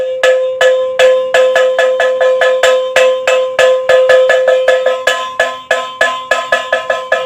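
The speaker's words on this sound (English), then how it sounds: "some of the women will hold these gongs, beating it" Gongs beaten by women in an African village setting, a fast, bright metallic clanking rhythm of rapid repeated strikes, close and loud with no voices.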